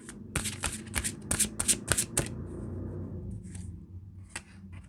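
A deck of tarot cards is shuffled up close in a fast run of crisp riffling flicks, then settles into a few softer scattered card taps.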